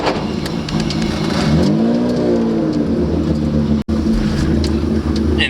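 A Nissan R34 GTR with a sequential transmission accelerates hard from inside the cabin, its engine note rising and falling in a loud, continuous drone. A sharp momentary cut near the end marks a gear change.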